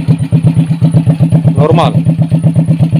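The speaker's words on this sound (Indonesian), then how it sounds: "Saya engkol aja tanpa gas." A Suzuki Supra Fit motorcycle, kick-started without throttle, idles close by with a rapid, even thumping beat that stays steady and loud throughout, while someone briefly speaks over it.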